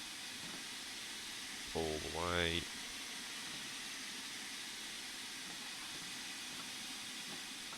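A steam locomotive in Train Sim World 3, on a Cornish line, gives off a continuous, even hiss of steam throughout, with someone speaking briefly over it near the start.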